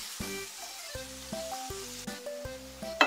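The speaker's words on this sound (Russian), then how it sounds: "Лук чуть прихватился, грибы. Жарим почти до готовности." Onion, potatoes and mushrooms fry in a pan for a Russian skoblyanka dish, a soft steady sizzle running beneath repeated clanking and scraping of a utensil against the pan.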